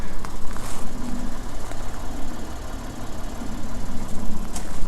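A Lexus IS 250 2.5 SE-L saloon idles on a cold day, a loud close steady engine rumble with a low throbbing hum and occasional faint clicks.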